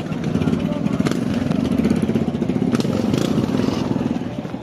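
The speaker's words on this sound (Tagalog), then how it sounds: "Dami mga motor dito." Many motorcycles rumble and idle at the busy Navotas fish port, a loud close engine drone with clattering and passing revs throughout.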